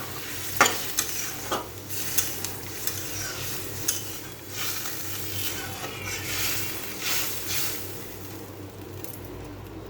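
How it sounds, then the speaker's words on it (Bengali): Hot water pours into a bubbling pot of thin fish curry with clinks of a spoon against metal, then a steady sizzle and simmer, close by with no talking. "গরম জল করে রেখেছিলাম, সেই গরম জলটাই দিয়ে দিচ্ছি"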